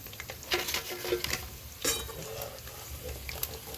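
Bone-in chicken pakodi fries in hot oil with a quiet crackling sizzle, soft irregular spatters and a few stirring clinks rising and fading over low background.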